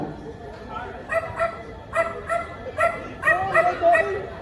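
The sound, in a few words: person imitating a dog barking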